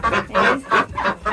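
Hens clucking inside a crowded farm coop, a few loud close-up clucks repeating in a bouncy rhythm.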